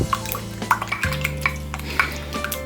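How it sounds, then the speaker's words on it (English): A fork or whisk beats a cracked egg for egg wash in a bowl during chicken pie making, giving quick, irregular clicks and taps over a steady low background hum. "So now I've finished whisking the egg."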